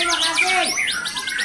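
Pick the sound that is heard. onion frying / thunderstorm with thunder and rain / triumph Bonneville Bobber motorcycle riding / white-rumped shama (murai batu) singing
white-rumped shama (murai batu) singing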